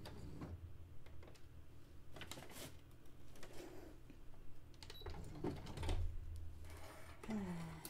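A sewing machine stitches a dress made from bed sheets, giving a quiet, close mechanical ticking and whirring in short uneven runs with faint room noise.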